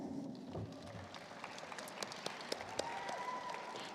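Audience applause at a spring nursing pinning ceremony, a fairly faint, steady patter of clapping from a crowd with a few sharper claps standing out, heard at a distance.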